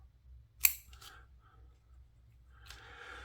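A Gerber Paraframe folding knife's blade locks open with one sharp, close metallic click, followed by a few faint handling taps and light rustling.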